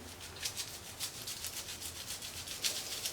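Bristles of an oil paintbrush rub back and forth on a bar of soap, a quiet close scrubbing in regular rhythmic strokes of about three per second.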